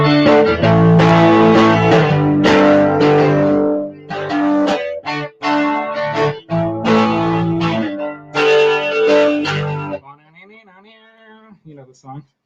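A G&L ASAT Tribute Bluesboy electric guitar plays loud through distortion and chorus effects, with sustained chords and runs broken by short pauses, ending on a quieter, thinner melodic phrase.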